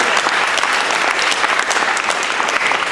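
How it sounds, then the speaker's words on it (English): A crowd at a community meeting gives loud, sustained applause, a dense rapid patter of many hands clapping close by without pause. "I want to give him another round of applause."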